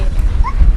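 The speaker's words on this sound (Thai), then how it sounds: "น้องหมาตื่นเต้น" A dog on a windy Cornwall coastal walk gives a quick excited yip, a single short near bark over gusty background noise.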